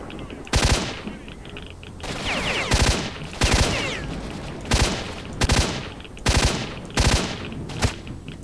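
Gunfire in the video game S.T.A.L.K.E.R.: Shadow of Chernobyl, loud close bursts of automatic shots repeating every second or so, with short gaps of echoing tail and faint background ambience between them.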